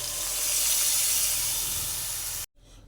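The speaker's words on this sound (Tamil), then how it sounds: "இந்த குழம்பு நல்லா கொதித்து எண்ணெய் படரட்டும்" Kuzhambu curry with dried mango pieces hisses and bubbles steadily in a pan, a loud, close, unbroken sizzle that cuts off abruptly near the end, leaving faint background noise.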